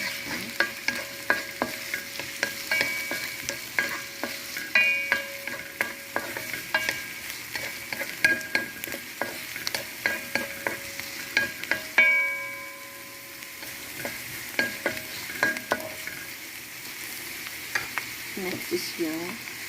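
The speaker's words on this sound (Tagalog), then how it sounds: "Lalagay ko na yung ating sibuyas. So, isutin natin siya." Onions sauté in oil for chicken sambusa, giving a steady light sizzle while a utensil stirs and scrapes the pan in repeated, rhythmic strokes, close and moderately loud.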